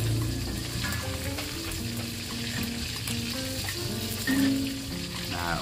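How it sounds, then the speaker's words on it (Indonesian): Salted fish, soaked in hot water and rinsed, frying in hot oil in a home kitchen, giving a steady, dense crackling sizzle that holds evenly throughout, with faint music in the background and no talk. "ikan asin tadi sudah saya rendam pakai air panas, sudah saya cuci bersih, sekarang saya goreng"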